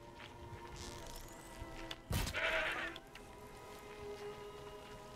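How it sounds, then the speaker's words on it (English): A goat in the snowy Frozen Wilds region of Horizon Zero Dawn lets out a single short bleat midway through, over a faint, steady wind-like game ambience. "Got a goat."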